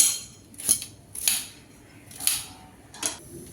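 A knife slits peeled whole onions in the middle, giving four or five short crisp cutting strokes spaced about a second apart, close and alone.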